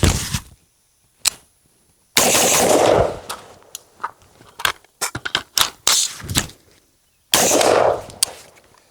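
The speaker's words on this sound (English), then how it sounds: "The next testing we're gonna do is fire a couple of rounds faster and conduct a mag change." AR15 rifle firing on a range: several loud bursts of rapid shots with sharp cracks, separated by a couple of quiet gaps, plus isolated single reports and metallic clatter.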